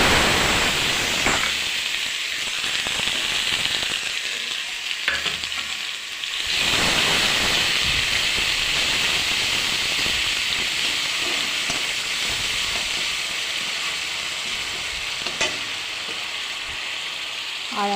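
Garam masala, a bay leaf, a dried red chilli and onion fry in hot oil for a prawn malai curry, giving a loud, continuous sizzle that stays steady with a brief dip midway.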